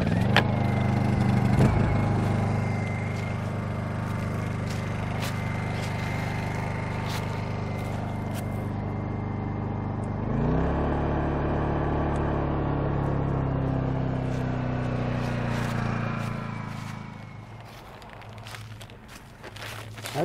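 A small generator engine runs on choke with a steady, loud droning hum, its pitch shifting partway through as it settles, then dropping and sputtering briefly near the end.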